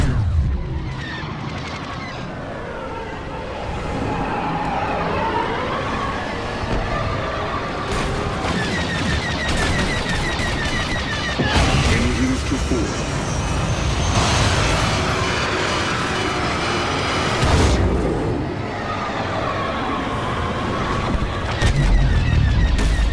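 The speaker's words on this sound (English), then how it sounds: "Hyena class bombers initiating attack run" Hyena-class bomber attack run in Star Wars Battlefront II: a long stretch of rumbling explosions, engine roars and scattered blaster fire, loud and continuous with several heavier booms rising out of the din.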